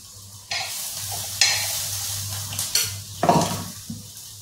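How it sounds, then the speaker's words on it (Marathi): A tempering sizzles in a pan over a coconut, roasted gram, peanut, ginger and garlic chutney for dosa, with close hiss, stirring scrapes and a few clinks against a steady low hum. "ह्याला वरतून फक्त अजून फोडणी टाकायचे"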